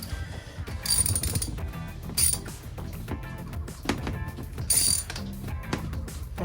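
A ratchet wrench tightens bolts on a Yanmar 2GM20 marine diesel water pump, giving short bursts of rapid clicking separated by pauses, close and moderately loud.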